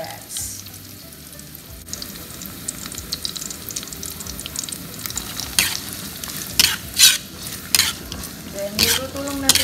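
Carrots tossed into softened onions frying in a pan for Lucky Me pancit canton, a crackling sizzle under busy spatula stirring that grows louder with sharp scraping strokes and metallic clinks toward the end.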